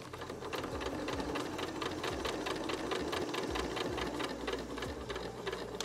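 A sewing machine stitches a reusable fabric teabag. It runs with a fast, steady mechanical rattle and buzz, close and continuous, with no talking.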